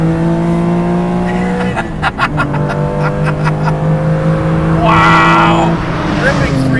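Guntherwerks 400R, a Porsche-based sports car with a closer-ratio gearbox, driving at speed: a loud, steady engine drone holds a sustained tone, dips through a gear change, then climbs again with a burst of brighter noise near the end.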